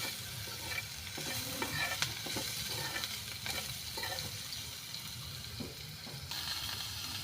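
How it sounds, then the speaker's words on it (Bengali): Vegetables sizzle steadily in a pan over a low gas flame, with a continuous close frying hiss broken by occasional stirring clatters and scrapes. "গ্যাসটা লো করে দিয়ে এটা ভেজে নিচ্ছি।"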